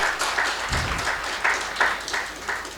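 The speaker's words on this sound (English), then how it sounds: "Can we learn how to applause well?" Scattered clapping from a summit audience, a patchy burst of hand claps rather than sustained applause, fairly close and moderately loud.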